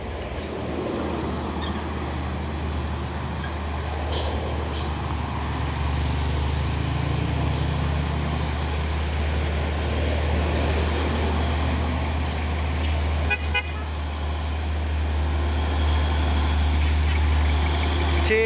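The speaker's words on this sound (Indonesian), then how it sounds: "Ada satu unit truk Hino, sepertinya ini Jember" A Hino 500 truck from Jember idles steadily at a roadside water-vendor stop on Bukit Kodok, a continuous low engine rumble throughout with faint traffic noise around it.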